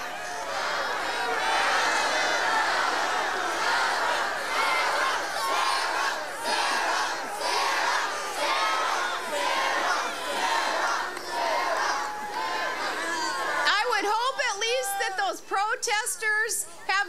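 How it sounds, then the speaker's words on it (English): Large political campaign rally crowd cheering and rhythmically chanting a name, a dense sustained roar of many voices for most of the stretch, then thinning into scattered louder individual shouts near the end. "trying to drown out the shouts with cheers of "Sarah, Sarah,""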